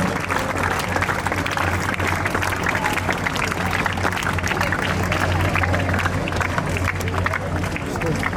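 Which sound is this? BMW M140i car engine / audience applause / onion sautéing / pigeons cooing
audience applause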